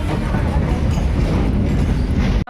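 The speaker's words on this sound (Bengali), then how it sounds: "আমাদের ট্রেন চলে এসছে।" A train pulls into a station with a loud, continuous rumble and rattle close by, filling the whole stretch before cutting off abruptly at the end.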